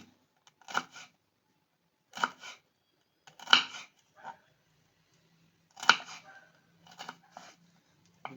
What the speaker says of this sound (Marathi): आपण करटुली आता कापून घेणार आहे